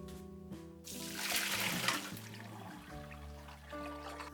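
Water draining from blanched tofu in a home kitchen while making beef mapo tofu, heard as a steady close pour and trickle with splashy bursts, alone without talk.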